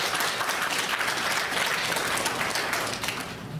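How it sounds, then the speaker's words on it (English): A room full of people breaks into steady, dense applause for a birthday, the clapping loud and continuous throughout with no voices over it. "give them a round of applause"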